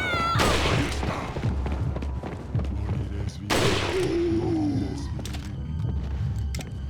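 Rifle fire in Resident Evil 4: Ultimate HD, two heavy booming shots a few seconds apart, each followed by a decaying tail and a wailing creature cry, set against a busy game background.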